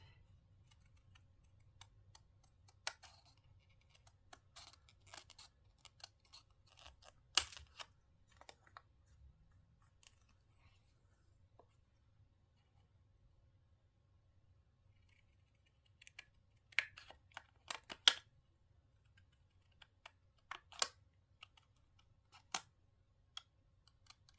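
Sparse, sharp snips and clicks scattered across a quiet background, with a cluster of quick cuts later on, like scissors trimming paper nearby.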